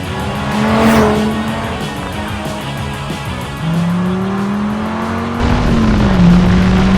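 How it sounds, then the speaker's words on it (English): A Dodge Viper launching hard in a drag race, its engine note climbing steadily through the gears with a brief dip at each shift, loud and close with some tire noise, and no talking. "there goes the Viper"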